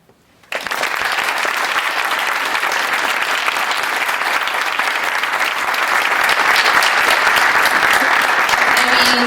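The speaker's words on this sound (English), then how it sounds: "Will, Shivani, Arushi, Danielle, one more round of applause for you." Audience applause closing a TEDx talk: after a brief quiet start, a loud, dense, sustained burst of clapping fills the room and swells slightly toward the end, with no talk over it.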